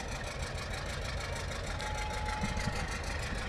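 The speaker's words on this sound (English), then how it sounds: "It must be fun to drive a big tractor like that." A big John Deere tractor with gigantic tires rumbles steadily past at a Christmas parade in San Angelo, a loud continuous low engine drone with a constant hum and no talking.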